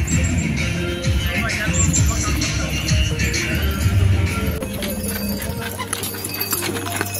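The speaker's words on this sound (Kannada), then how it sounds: "ಕುದುರೆ ಎಲ್ಲ ತುಂಬ ಸ್ಪೀಡಾಗಿ ಓಡೋಗ್ಬಿಡುತ್ತೆ." Hooves of a horse pulling a tonga cart clop at speed along an outdoor track at an adventure base in Dharwad, Karnataka, a steady busy rhythm amid road noise and the rumble of passing vehicles.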